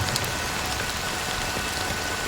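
Rain falling in Honkai: Star Rail, a dense steady patter of drops on surfaces, fairly loud and continuous with no voices over it.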